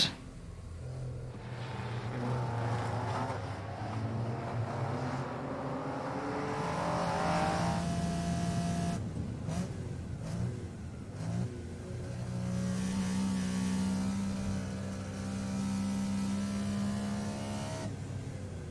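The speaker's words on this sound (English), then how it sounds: "my car doesn't quite rev as high as his because the sound clips out above a certain rev range" A racing car engine in a racing video game revs up and down continuously, with rising and falling pitch sweeps and a steady loud drone that clips out above a certain rev range, with no talk.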